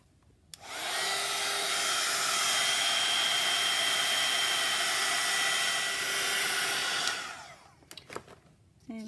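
A hair dryer switches on and blows a steady, loud whining roar for about six seconds while drying paint on wallpaper, then shuts off, followed by a few handling clicks.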